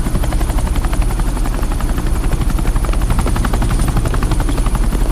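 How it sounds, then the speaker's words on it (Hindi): A helicopter flies close by, its rotor chop pulsing in a fast, even rhythm over a loud, constant engine roar. "ये हेलीकॉप्टर सीधे एयरपोर्ट के टारमैक पे लैंड होगा।"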